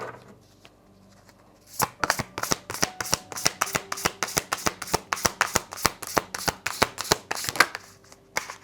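A large deck of oracle cards is shuffled by hand, producing a steady series of sharp, crisp riffling snaps at a regular rhythm, close and clear with no talking.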